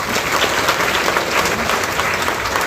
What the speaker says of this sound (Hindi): तो अपने लिए जोरदार ताली बजा दो।